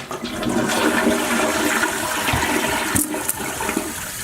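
A toilet flushes loudly nearby, a rushing gurgle of water that swirls and drains over a few seconds.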